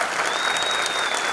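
Brief burst of dense audience applause at a dance show, many hands clapping at once in a steady, full wash with a faint tone running through it.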